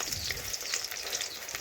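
Gram flour and raw potato fritters fry in hot oil with a steady, close sizzle that crackles evenly throughout, with no voices.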